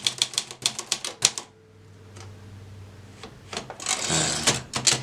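Close key strikes on a HEMA 44K typewriter rattle off in a quick burst, pause for a low mechanical hum and carriage movement, then resume with a denser clatter of typing; no voices.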